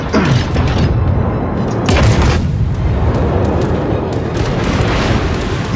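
Heavy naval gunfire in the World of Warships game, cruiser Katori in a co-op battle: repeated deep booming shots and explosions layered over one another, loud and sustained with a rumbling tail.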